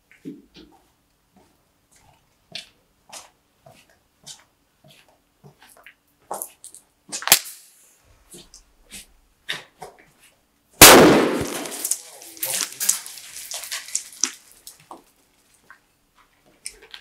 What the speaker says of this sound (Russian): Давайте попробуем взорваться.